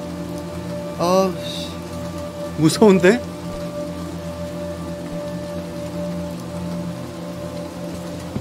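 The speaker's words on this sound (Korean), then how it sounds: "밖에 비가 와, 친구야." Rain falling outside in the horror video game Little Nightmares II, a steady close patter of drops on a surface running throughout, with a player speaking briefly over it twice.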